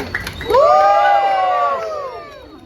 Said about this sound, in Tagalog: Palakpakan na may kasamang sigaw